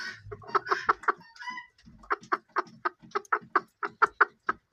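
Bantam hens cluck in a steady run of short, close calls during a heavy downpour, the clucks coming one after another at a fairly even rhythm.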